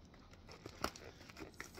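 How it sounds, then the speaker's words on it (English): Quiet, close crinkling and tearing of a small plastic bag of needlepoint supplies: a few soft rustles with one sharper rip in the middle. "So we're going to open this little bag of goodies."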